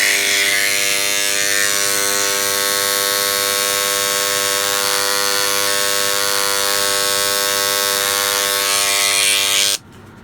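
Dremel 290 engraver with a tungsten tip working fossil rock around ammonites, giving a steady, loud, close electric buzz with a stable whine that runs unbroken for about ten seconds, then cuts off abruptly near the end.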